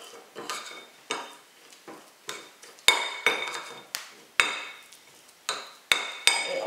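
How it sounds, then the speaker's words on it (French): A spoon stirs semolina face scrub ingredients in a bowl, sharp irregular clinks and scrapes against the bowl at a brisk, uneven pace, close and alone without talk. "On va bien mélanger tout ça comme ça"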